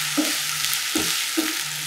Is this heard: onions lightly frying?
yes